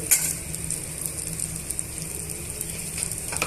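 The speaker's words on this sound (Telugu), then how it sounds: "టమాటా ముక్కల్ని కూడా యాడ్ చేసుకొని బాగా వేయించేసుకోవాలి" Green and dried chillies fry in a pan for a Telugu chutney as tomato pieces go in, giving a steady, soft sizzle with faint scraping stirs, close and even throughout.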